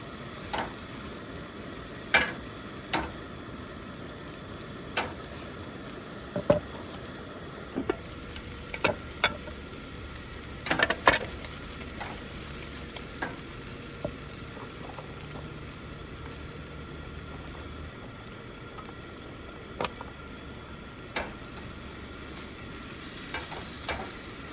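Stuffing with chicken stock and crumbled McCormick bouillon cubes stirred in a frying pan while car camping at the beach, a low sizzle under repeated scraping and tapping of a utensil against the pan.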